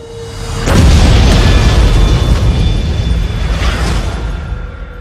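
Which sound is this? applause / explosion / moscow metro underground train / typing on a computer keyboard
explosion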